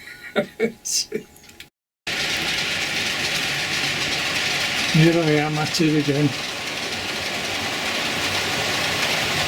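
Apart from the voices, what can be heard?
model diesel trains running on layout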